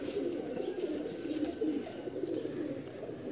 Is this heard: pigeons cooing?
yes